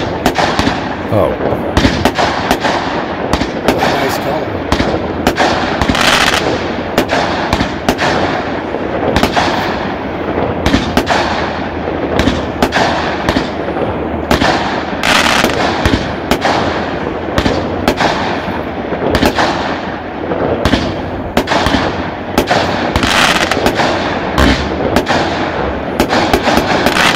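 A dense, continuous barrage of fireworks exploding outdoors, with rapid crackling and popping bursts layered over one another for the whole stretch, loud and near without pause.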